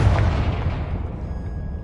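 A Confringo fire spell blast in the video game Hogwarts Legacy lands as a loud, booming burst at the start, then a rumbling decay that fades over about two seconds.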